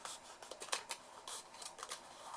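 Scissors trimming tape off a cardboard box, a string of quiet, irregular close snips and rustles with no voices.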